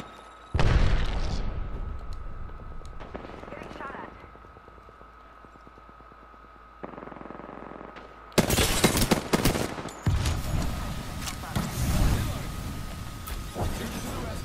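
Gunfire in Apex Legends: bursts of rapid automatic shots and heavy booms come in loud clusters, broken by quieter gaps and a brief mechanical rattle, with heavy firing resuming near the end.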